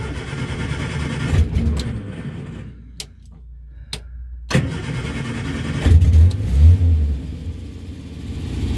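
An Austin/Morris Moggy van is started for the first time in a year: the starter cranks in short bursts with brief pauses, then the engine catches and settles into a rough, loud idle close by.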